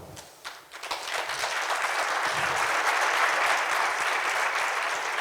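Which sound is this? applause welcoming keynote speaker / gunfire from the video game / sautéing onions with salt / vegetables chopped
applause welcoming keynote speaker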